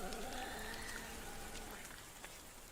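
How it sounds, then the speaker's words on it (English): Heavy rain pours down over a forest, a dense, steady hiss of drops hitting leaves and ground that slowly eases a little, with faint tonal music underneath. "Then the rain came. For days and nights it poured down over the forest,"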